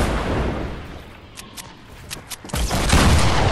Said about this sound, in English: Just sending RPGs from the Roaming Hill.